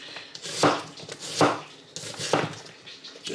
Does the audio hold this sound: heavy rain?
no